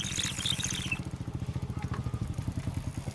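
A motorbike engine idles close by, its rhythmic putter steady and fairly even throughout, with a brief higher whine at the start.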